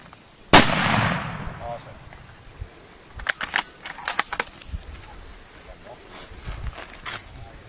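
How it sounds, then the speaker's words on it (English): A single sharp rifle gunshot is fired at a buffalo in the bush near Hoedspruit, South Africa; the crack rings out loud and close, echoes away, and is followed by clicks, rustling and faint voices. "Shoot him again."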